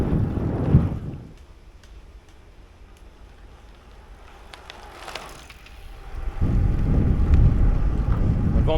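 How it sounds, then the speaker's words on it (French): Wind buffets the microphone on a gravel bike ride along a French véloroute, loud gusty rumble at the start, easing to a quieter rushing hiss in the middle, then swelling again into heavy low roaring for the final seconds. "Le vent dans le dos, c'est pas mal."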